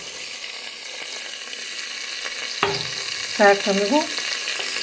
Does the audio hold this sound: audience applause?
no